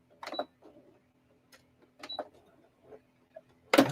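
Domestic sewing machine stitching a beginner quilt block indoors in several short bursts separated by pauses, with a louder clatter at the very end.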